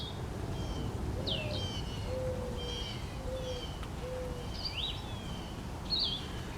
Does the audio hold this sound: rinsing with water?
no